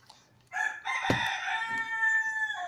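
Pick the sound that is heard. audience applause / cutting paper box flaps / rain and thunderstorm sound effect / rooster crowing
rooster crowing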